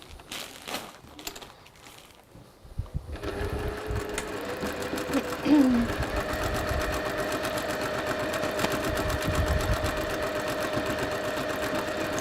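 A sewing machine joins quilt top pieces, running as a steady continuous whir for most of the stretch, preceded by brief handling noises.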